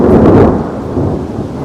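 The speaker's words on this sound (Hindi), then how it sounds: "घर में पहुंचते ही बारिश हो गई तेज" Heavy monsoon rain pours down in a hill region with a loud rumble of thunder at the start, the roar fading into a dense, steady wash of rain.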